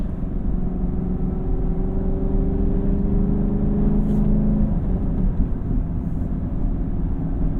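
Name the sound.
2019 Chevrolet Camaro SS 1LE engine revving while driving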